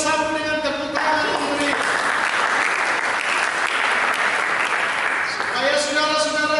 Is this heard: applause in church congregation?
yes